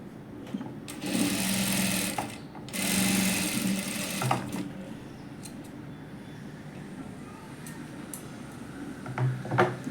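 Sewing machine stitching a princess-cut blouse at the waist section: two bursts of fast, whirring stitching, each lasting a second or two, separated by quieter handling and fabric rustle, close up, with no talking.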